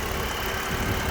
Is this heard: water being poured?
no